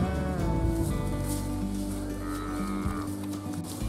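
Cattle moo in a long, loud, close-up call at a rolled-out hay bale where they are feeding, the lowing holding steady for several seconds over soft rustling.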